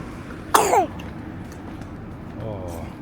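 A single sharp cough rings out, loud and close, followed by quiet room tone and a faint murmur.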